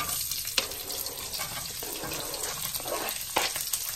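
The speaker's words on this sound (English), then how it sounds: "And stir them till the onions are a little bit caramelized, a little bit brown." Chopped onions with cumin fry in a pan, giving a steady close sizzle and hiss with scattered crackles and stirring clicks, no talking.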